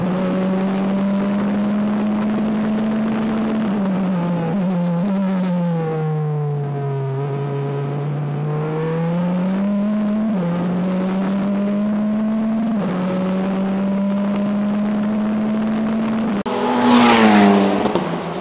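F3 Regional single-seater race car on a circuit, its loud, close engine whining up and down through the revs as it brakes and shifts gears, ending in a sharp burst of rushing noise.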